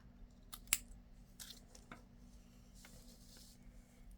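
Scissors trim black lace with a few faint, quick snips and one sharper cut, quiet and close, with small rustling between them.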